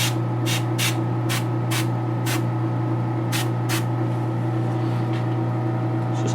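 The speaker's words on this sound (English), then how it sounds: "Just clean out the airbrush" An airbrush being cleaned out after shading on a Sideshow Mystique Premium Format figure repaint gives short bursts of hissing spray, about eight in uneven rhythm, over a steady compressor-like hum, close and fairly loud with no talk.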